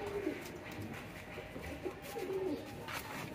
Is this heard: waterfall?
no